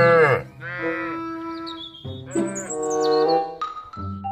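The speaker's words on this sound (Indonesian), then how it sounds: "yang terakhir ada kerbau" A buffalo in a Jurassic World dinosaur hunting video game gives long, loud, drawn-out moos, several calls in a row with a few faint bird-like chirps around them.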